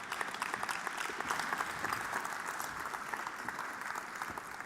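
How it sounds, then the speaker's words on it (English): Sustained applause from a conference audience welcoming the moderator, steady and dense, filling the room from start to finish with no speech over it. "join me in giving a warm round of applause to Mr. Frank Schneider"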